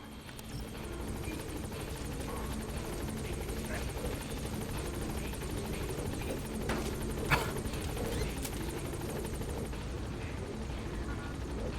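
A helicopter in the Metal Gear Solid V video game flies with a continuous, loud rotor thrum and turbine whine that stays steady throughout, broken by a few brief sharp bursts partway through.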